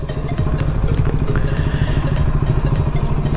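A Triumph Tiger adventure motorcycle with panniers fitted runs close by, its engine a loud, continuous, rumbling clatter that holds steady throughout with no speech over it.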